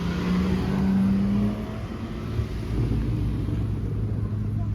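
A BMW M4 G87 engine rumbles loudly with a low steady drone at a car meet, swelling into a deeper throaty rev partway through, with faint chatter in the background.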